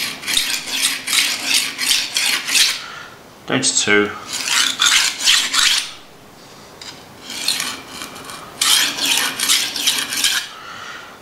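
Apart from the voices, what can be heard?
knife being sharpened, swishing strokes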